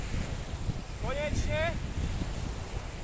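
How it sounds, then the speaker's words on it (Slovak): Steady wind gusts rush across an open lakeside at Šírava in September, a constant broadband roar filling the whole stretch, with a brief voice cutting in near the middle. "keby trošku vetrik ustal"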